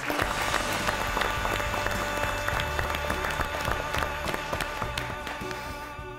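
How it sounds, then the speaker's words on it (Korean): A studio audience applauds loudly and continuously as a lecture on a Korean independence-fighting family begins, dense clapping filling the room with music or other sound mixed underneath throughout. "박수로 맞이해 주시기 바랍니다"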